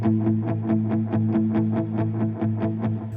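A guitar with a capo plays a G-shape chord for a worship song, strummed in a steady, even rhythm of quick repeated strokes, moderately loud and with no voices over it.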